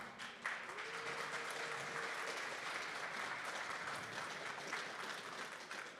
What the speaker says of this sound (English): So round of applause for Natalia and Ameline.